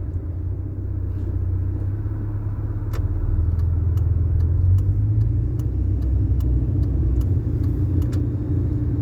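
An old Ford Fiesta on the road gives a steady low engine and road rumble from inside the cabin, swelling slightly midway, with faint regular ticks above it and no talk.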